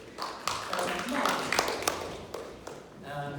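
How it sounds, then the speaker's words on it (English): A mentalism show audience claps for a volunteer, a short burst of hand claps with distinct sharp slaps, mixed with some voices in the room. "Give her a round of applause"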